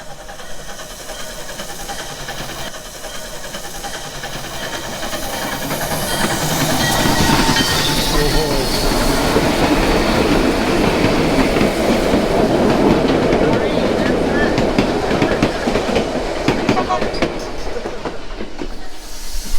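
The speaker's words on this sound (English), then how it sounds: "This time, we got to see one of the few remaining steam engines." One of the few remaining steam locomotives rolls past near Skagway, Alaska, with clattering wheels and hissing steam that swell louder midway and stay close before easing slightly at the end, without talk.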